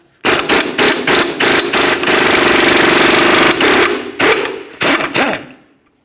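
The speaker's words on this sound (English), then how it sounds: "Use a 19mm to remove your mounting nut." Power impact tool spinning a 19mm socket to remove the tie rod end mounting nut on a 2012-2018 Nissan Altima steering rack, loud rapid hammering bursts in a long continuous run with shorter bursts before and after.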